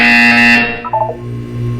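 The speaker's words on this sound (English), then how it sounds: "When you hear the buzzer, look down at the floor." A loud, harsh electronic buzzer from the video game Portal 2 blares for about half a second and then cuts off, leaving a quieter lingering hum.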